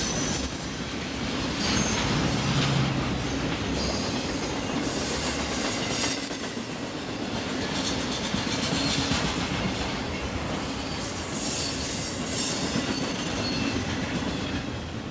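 A BNSF freight train rolls past at Carkeek Park with a steady rumble of cars and wheels, and sharp high-pitched wheel squeals rise and fall over the top, loud and close throughout with no talking.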